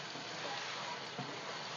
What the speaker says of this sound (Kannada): ಚೆನ್ನಾಗಿ ಫ್ರೈ ಮಾಡ್ಕೊಳ್ಳಿ ಸೊಪ್ಪು